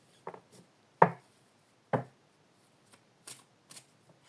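A deck of tarot cards being shuffled for a reading, heard as a few short, crisp riffling bursts separated by pauses, close and fairly quiet with no talking.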